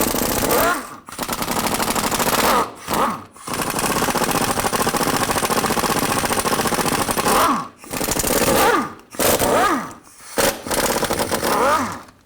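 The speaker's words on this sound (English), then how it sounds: "I'm going to use a 13mm socket, take all these bolts off" A 13mm socket on a power wrench spins out the rear axle cover bolts of a 2000-2006 Chevy Tahoe, loud, close, rattling hammering bursts lasting several seconds each, separated by brief pauses.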